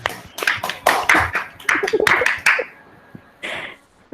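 Students clapping in a university classroom, a short, uneven burst of separate close hand claps from a small group, tapering off with a pause before a final few claps.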